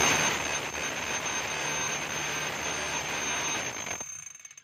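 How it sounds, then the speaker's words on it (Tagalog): A DeWalt D25033 rotary hammer being test run in hammer mode gives about four seconds of dense, loud mechanical rattling and hammering, then cuts off abruptly into quiet. "Lagyan natin sa hammer."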